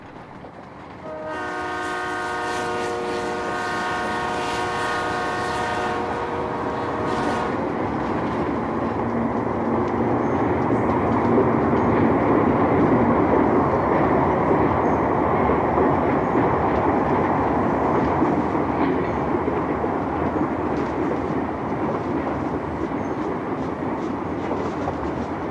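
An ALCo diesel locomotive hauls a commuter train near Setauket, just west of Port Jefferson, opening with a loud multi-tone horn blast and then a steady rumble and clatter of passing cars for over twenty seconds.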